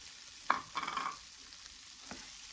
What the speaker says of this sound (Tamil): போட்டு இந்த பட்டர்லேயே நல்லா வதக்கி விடுங்க.